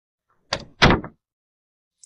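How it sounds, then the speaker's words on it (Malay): Locked bedroom door being tried, two quick solid thumps of the door rattling against its latch, close and loud, followed by silence and a faint click at the end. "Namun pintu terkunci rapat."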